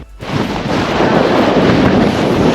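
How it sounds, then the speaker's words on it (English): Strong, continuous wind buffets the microphone on a coastal hiking trail in Maui, a loud roaring rush that swells after a brief quiet start. "So windy."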